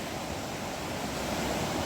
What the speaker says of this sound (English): I could hear the river.